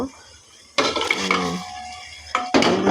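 Chilies frying in a pan, with sharp stirring clatter and sizzle bursting in close and loud after a quiet start, easing off, then returning in short scraping bursts near the end.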